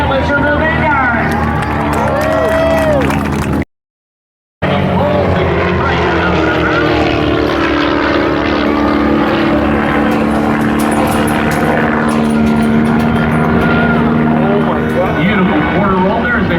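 Vanguard formation aerobatic team propeller planes fly past at the Laredo WBCA Stars & Stripes Airshow, their loud buzzing engines rising and falling in pitch. A commentator talks over a crowd throughout, and the sound drops out briefly partway through.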